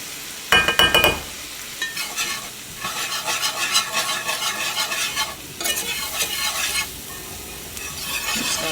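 About a quarter cup of flour stirred into hot oil in a pan for gravy, giving a loud, steady sizzle with scraping stir strokes and a sharp clatter near the start, no voices.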